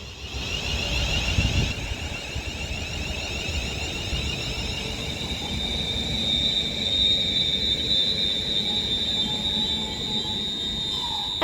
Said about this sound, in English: And as the pair of London North Western Railway 350s arriving now